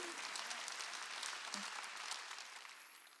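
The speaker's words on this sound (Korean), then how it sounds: "두 손이요 장애물이 없는 걸 믿으면 박수치라" A church congregation claps hands during a Sunday worship service, a continuous fairly distant patter of many hands that slowly fades toward the end.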